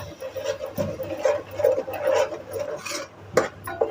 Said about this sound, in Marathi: आता आपण हे कांद्याची पेस्ट केलेली आहे ना ते टाळून घ्यायचे पण कांद्याचा वास मोडेपर्यंत आपल्याला फ्राय करून घ्यायचं आहे